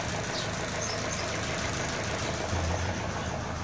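A Chevrolet Cruze engine idles steadily at close range with a low, even hum and slight knocking vibration, and no voices.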